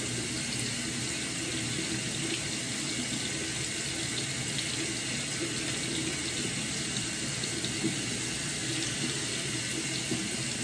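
Tap water runs steadily into a sink, a constant close splashing rush with no pauses and no voices.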